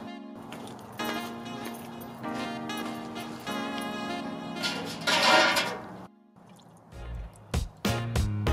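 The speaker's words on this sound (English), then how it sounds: "now we're draining our hop sock and going to chill the wort." Wort drains from a hop sock during home beer brewing, a steady close trickle of dripping liquid that swells briefly near the middle, pauses, then returns as a few louder splashing drips.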